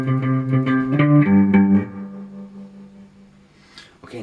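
Electric guitar picks out a twangy low riff, a quick run of plucked notes settling into a sustained low note that rings and fades, with a faint scrape at the end.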